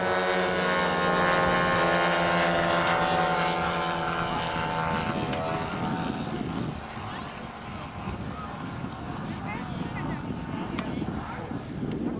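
Aircraft of an aerobatic display team fly over an airshow crowd, a loud sustained drone that dominates the first half, then eases slightly as the planes head in to land, with people talking nearby.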